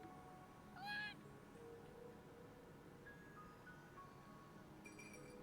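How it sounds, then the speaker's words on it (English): A cat meows once in Trails of Cold Steel, a short, clear, rising call heard over quiet background game music and ambience. "A cat?"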